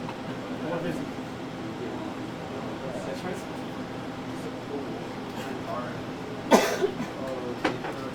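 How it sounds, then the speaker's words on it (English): A sick person coughs in a couple of sharp bursts near the end, over a steady low hum of background noise with faint chatter. "I keep coughing. I'm so sick."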